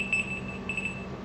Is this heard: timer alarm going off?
yes